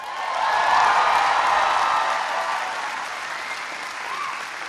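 Audience at a presidential speech at North Carolina State University breaks into cheering and applause, a loud crowd roar that swells early then slowly tapers while clapping continues throughout.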